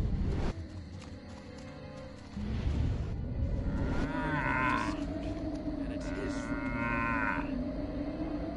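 Radioactive zombie cows in the video game Destroy All Humans! moo in long, loud, drawn-out calls over a steady game background rumble, several overlapping lows without speech.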